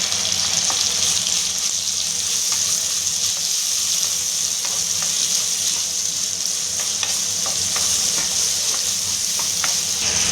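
Tomato pieces cooking with salt in a hot pan for a green fenugreek leaf chutney give a loud, continuous sizzle with fine crackles, steady throughout with no talking.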